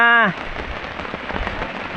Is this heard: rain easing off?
yes